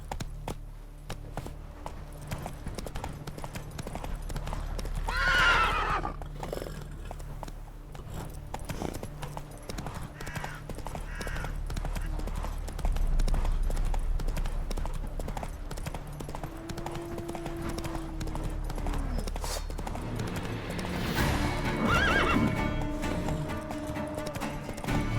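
Roach, a horse in The Witcher 3, gallops with a steady clip-clop of hooves, whinnying a few times, while a voice speaks briefly near the end.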